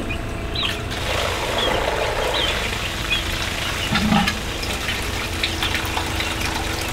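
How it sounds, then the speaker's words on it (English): A pump pushes water through a food-grade hose for an off-grid gravity-fed water system, giving a steady close gushing hiss that runs unbroken throughout. "we're just going to pump 5 gallons of water and make sure it pumps 5 gallons of water."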